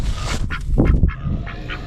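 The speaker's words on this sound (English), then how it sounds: "Say hello, Mr. Duck" A duck on a farm gives several loud, close honking calls in an uneven run, some short and some drawn out, with no talking over them.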